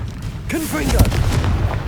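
A Confringo fire spell bursts in Hogwarts Legacy, a loud booming blast with crackling flare trailing off over about a second, mixed with a short in-game voice effect and game ambience.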